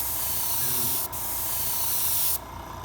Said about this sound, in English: spraying a vignette, a soft gradation of color by holding the airbrush back, away from your work, and spraying overlapping passes